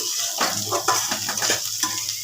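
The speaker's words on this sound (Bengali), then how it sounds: "পেঁয়াজগুলোকে এখন আমি একটু ভাজছি" Onions sizzle in hot oil with garlic and cumin as a spoon stirs and scrapes the pan in short strokes. The steady frying hiss is close and continuous, with no talking.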